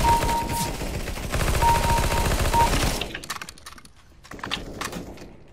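Rapid P90 submachine gun fire in the CS:GO video game, long loud automatic bursts for about three seconds, then scattered shorter shots and clatter trailing off.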